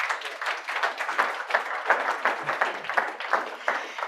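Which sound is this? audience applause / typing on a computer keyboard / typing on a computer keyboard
audience applause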